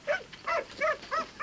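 A racing greyhound barks in four sharp, evenly spaced yips, clear and fairly close, with no other sound around them.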